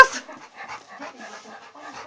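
A small dog gives a quick run of close, high yapping barks and whimpery yips, loud at the start and then repeating in short bursts across about two seconds with no talking.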